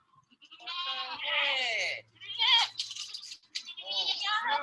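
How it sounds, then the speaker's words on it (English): Goats at a farm bleat in several wavering calls, fairly close, with a short pause in the middle and a higher burst near the end. "And there's a little video clip of the goats here."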